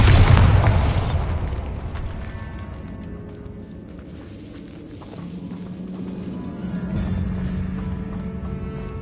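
A Bombarda explosion spell goes off in Hogwarts Legacy, a loud booming blast at the start that decays into a long rumbling tail and lingering low game ambience.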